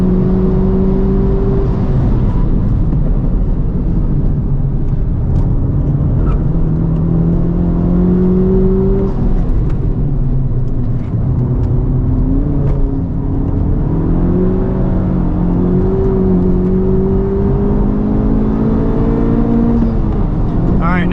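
A 2023 Honda Civic Type R engine revs up and down repeatedly at high speed on a race track hot lap, pitch climbing through the gears and dropping again, loud and close from inside the cabin.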